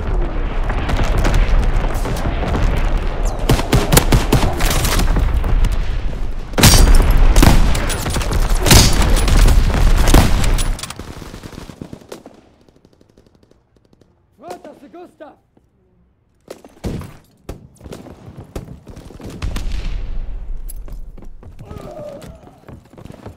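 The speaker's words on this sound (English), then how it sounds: "Enemy mortar fire incoming." Heavy gunfire and mortar blasts in Call of Duty WWII, loud dense bursts and booms for about eleven seconds, then scattered sharper explosions and impacts after a brief lull.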